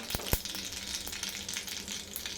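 Mustard seeds sizzle in a small pan of hot oil for a dhokla tempering, a faint, soft steady fizz with a couple of sharp pops near the start.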